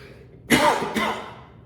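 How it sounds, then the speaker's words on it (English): Two rough coughs in close succession, the first harsher and longer, then a shorter one, close to the microphone with no talking. "I'm gonna cough in like a second, sorry."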